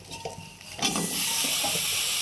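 Peanuts drop into a hot pan of oil with chopped onion and chili, setting off a sudden loud sizzle that settles into a steady, close hiss after a few soft clinks.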